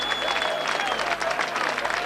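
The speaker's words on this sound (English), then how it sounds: "you can hear the applause from the Leeds section of the crowd" A Leeds section of the rugby league crowd, seated and standing close by at a Wakefield v Leeds match, gives a short burst of dense, steady applause with a general crowd murmur behind it.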